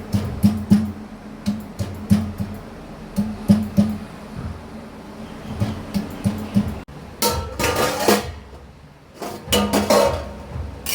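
Garlic being crushed for Malabar spinach, heard as repeated sharp pounding and clinking strikes in an irregular rhythm, close and fairly loud, with a denser burst of knocks near the end.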